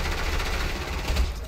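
Dense, continuous bursts of gunshots from the Fortnite video game fill the whole moment, loud and close, blending into a steady rattling barrage.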